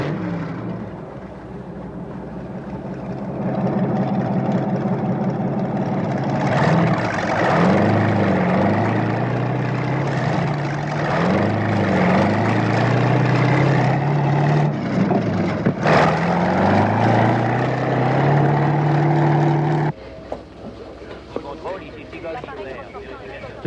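A steady propeller engine drones loudly and continuously, with voices talking over it, before the noise drops off abruptly near the end.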